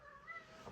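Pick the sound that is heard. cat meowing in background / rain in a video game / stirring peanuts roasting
cat meowing in background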